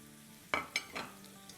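Garlic fries in a pan with crushed and ground chillies, coriander powder and turmeric. A low, steady sizzle is broken by two sharp stirring scrapes and a softer clatter near the middle, heard close and with no talking.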